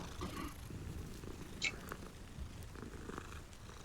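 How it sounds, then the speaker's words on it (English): A cat in the Hogwarts Legacy video game purring as it is petted, a soft steady rumbling purr at low volume over quiet game ambience, with no talking. "You can pet the cat"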